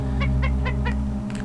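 A bird enemy in the video game Donkey Kong Country lets out four quick, evenly spaced clucking squawks over a steady game backdrop, alone and fairly loud.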